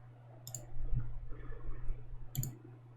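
Two short bursts of keyboard typing, a quick cluster of clicks near the start and another near the end, heard faintly and alone over a steady low hum.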